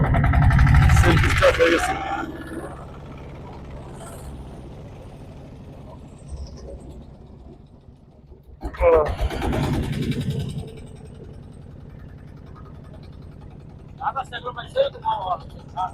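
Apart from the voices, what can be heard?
boat engine being self-started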